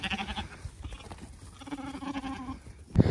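Sheep bleating close by while being shorn, with several loud bleats, brief handling noises and a sharp burst at the end.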